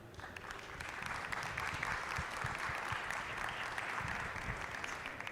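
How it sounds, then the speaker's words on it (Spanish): An audience applauds a panel at a conference: a dense, steady wash of many hands clapping that holds at an even, fairly loud level throughout, with no voices. "ahora pediría un fuerte aplauso para ellos"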